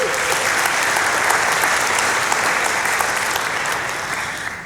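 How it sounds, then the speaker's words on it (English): Sustained, dense applause from a large audience at a Google for South Africa 2019 event, steady and loud for several seconds before tapering off near the end. "I think that deserves a round of applause."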